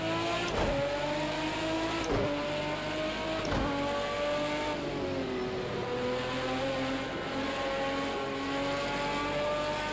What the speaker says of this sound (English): I just love hearing the sound of this car.